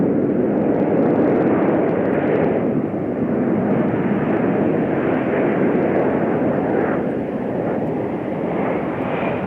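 Jet aircraft of an aerobatic display team roar past overhead in tight diamond formation, a loud, sustained engine rumble that stays powerful throughout with slight swells.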